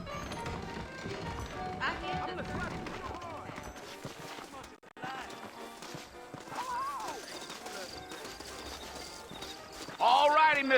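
Horse hooves clip-clop in the Western video game Red Dead Redemption, a quick rhythmic patter mixed with in-game voices talking and background music, with a brief louder burst near the end.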